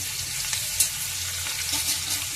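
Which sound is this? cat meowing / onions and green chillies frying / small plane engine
onions and green chillies frying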